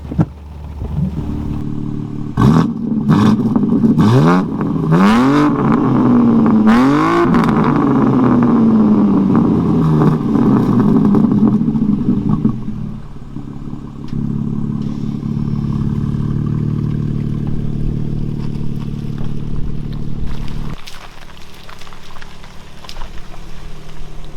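BMW M3 G80 Competition with its S58 engine driving off, a loud, close engine that revs and climbs through several rising sweeps before settling into a steady, lower drone with some clatter.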